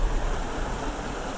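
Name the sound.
desert creek stream flowing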